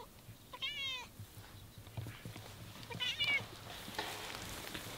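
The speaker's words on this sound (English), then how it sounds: "And here we have Mr. Cat." A farmyard cat gives two clear meows about two seconds apart, close to the microphone over a quiet outdoor background with faint rustling.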